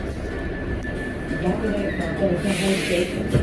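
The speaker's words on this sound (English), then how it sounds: "okay, there's a train in the station" A train in a station rumbles low and steady nearby, with a sustained tonal hum and a brief hiss of air, while people talk underneath.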